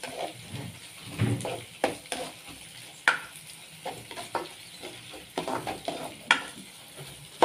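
Long beans and sweet corn being stir-fried in a pan: a soft sizzle under irregular scraping and clinking of a utensil against the pan, with sharper taps scattered throughout.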